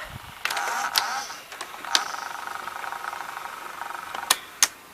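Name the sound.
Fisher FVH-907 VCR mechanism after pressing stop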